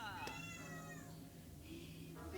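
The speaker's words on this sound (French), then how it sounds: "C'est moi ou ça miaule derrière toi?" A cat meows behind someone playing a video game: a couple of rising and falling cries near the start over a steady room hum, with a faint murmur of background noise.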